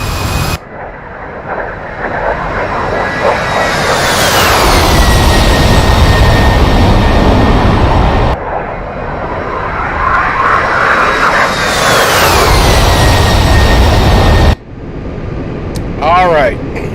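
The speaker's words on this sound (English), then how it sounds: "busted out a little flyby there" An A-10C jet in DCS World roars past in two loud flybys, each swelling to a sweeping whine and cutting off abruptly, followed by a short quieter engine hum.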